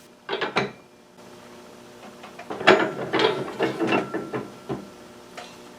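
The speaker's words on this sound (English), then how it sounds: "it takes quite a bit of pressure to force the pins into the holes" Metal pins are forced under heavy pressure into the holes of an index table plate, producing a string of close, clicking and clunking mechanical knocks in irregular bursts with short pauses between.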